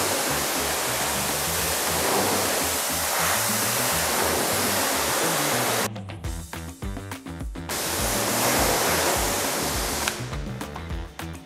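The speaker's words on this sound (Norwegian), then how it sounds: "Nok en gang skal vi spyle av nedenifra og opp med jevne bevegelser." A car being rinsed from the bottom up with a pressure-washer water spray: a loud, steady hissing wash that cuts out briefly twice, then resumes.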